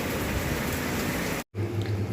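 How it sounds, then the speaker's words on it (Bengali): Steady rain pours down evenly for about a second and a half, then breaks off abruptly into a quieter stretch with a low hum. "আস্তে আস্তে বৃষ্টির পরিমাণ কমে চলে আসে"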